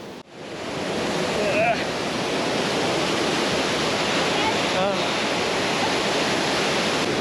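A waterfall in Meghalaya, with hikers on the trail nearby, roars as a constant broad rush of falling water with faint voices in the background.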